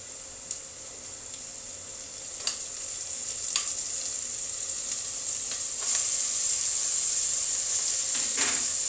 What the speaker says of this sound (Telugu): ఉల్లిపాయ ఇలా వేగాక మనం మటన్ కీమాని తీసుకుందామండి.